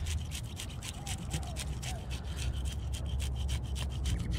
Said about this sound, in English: Just got to get all these scales off first before I fillet it.